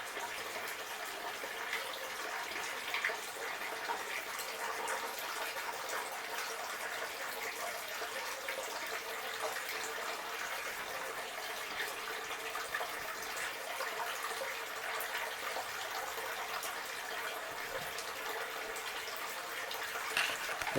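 Water washes sand off a silicone miller table mat during fine gold separation, a soft steady trickle and spray running evenly throughout without pause.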